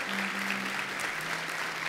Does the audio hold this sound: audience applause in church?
yes